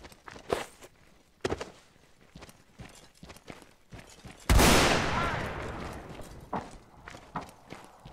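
A single loud musket volley crashes out in the Mount and Blade Warband battle game, NaS mod, with a long rolling decay, preceded and followed by scattered sharp footstep and hoof-like knocks.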